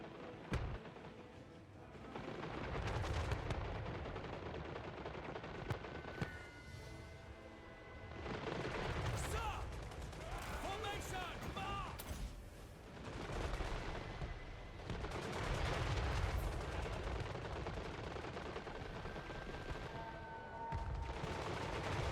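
Artillery and gunpowder weapons fire throughout a Total War: Warhammer III battle: repeated booming cannon shots and crackling musket volleys layered over a dense, continuous roar of combat, loud and sustained.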